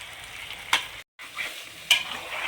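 Chicken curry for a Vijayawada-style chicken iguru gets a tomato, onion and coconut paste stirred in, giving a steady sizzle with two sharp scraping stirs and a brief silent gap between them.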